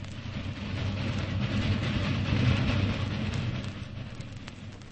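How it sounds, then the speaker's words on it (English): A train rumbles past with a dense, steady roar that swells toward the middle and eases off near the end, with no voices. "It's a sad sound. A train in the night."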